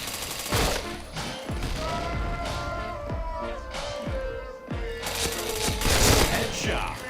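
Rapid gunfire in a video game shooter, bursts of shots and booming impacts layered over game music and effects, with a voice speaking at times.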